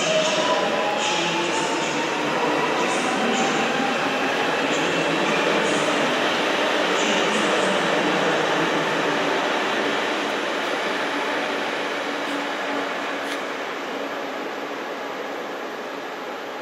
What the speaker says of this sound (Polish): I odjeżdża pociąg z Krakowa do Katowic.